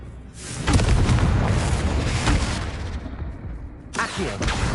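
A Confringo spell explosion in the Hogwarts Legacy video game gives a loud, deep booming blast that rumbles for a few seconds, then a second burst follows near the end.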